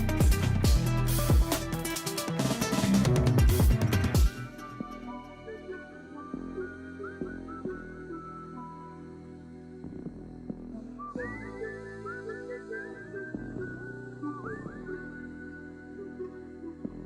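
Whistled melody in an album track, a real recorded whistle carrying a clear tune over soft strings and layered instrumentation, coming after a loud, dense full-band opening.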